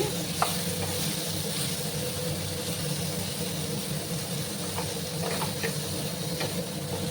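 Okra sizzles steadily in a hot pan while being fried for a rui fish curry, with a constant close hiss and a few faint stirring clicks and no talking.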